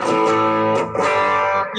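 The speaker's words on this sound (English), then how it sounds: "bring up some distortion" An electric guitar played through a distortion effect rings out loud and close, sustained gritty chords that change once midway, with no voices over it.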